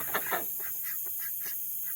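Ducks quacking and honking at a small homemade duck pond waterer in a short series of calls over steady background noise, moderately close.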